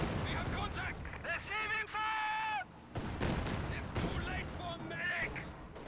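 Katyusha rocket artillery in Company of Heroes 2 fires in bursts of sharp booms and whooshing launches amid battle noise, with someone commentating over much of it.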